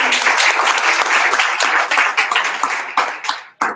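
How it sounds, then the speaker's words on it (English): A crowd applauds the general evaluator at a young professionals' Toastmasters meeting, with dense, steady clapping that runs loud for over three seconds before breaking off and ending in a last short burst. "Give her an applause."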